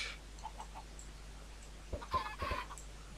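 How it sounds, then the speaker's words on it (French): Chickens clucking in the video game Minecraft, a few soft separate clucks early on followed by a louder cluster of squawky calls near the end, close by over a faint steady background hum. "Oh, j'ai fait naître des poulets."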